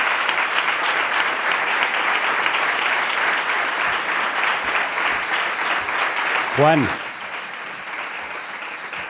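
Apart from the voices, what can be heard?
audience applause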